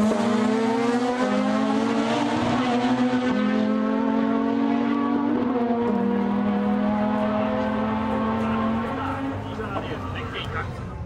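A Mazda FD RX-7 rotary engine screams through a drag racing run, a loud sustained high-pitched drone stepping up through gears, with the pitch falling toward the end and a voice talking over it.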